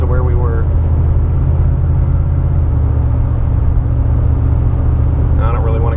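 A 1998 GMC C1500 pickup speeds up on cruise control, its engine a steady low rumble with road noise that holds evenly throughout, heard from inside the cab; a voice talks over it.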